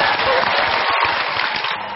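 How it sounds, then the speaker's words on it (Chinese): A studio audience applauds steadily for about two seconds, a dense wash of clapping close and fairly loud at a television talk show. "鼓掌，佩服。"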